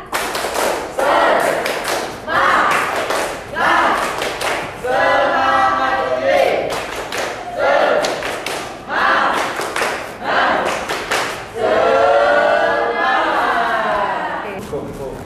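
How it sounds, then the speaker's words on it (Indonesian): A school class performs a rhythmic 'tepuk semangat' clapping cheer, bursts of sharp group claps alternating with loud chanted voices in a repeating pattern, close and energetic. "Tepuk semangat."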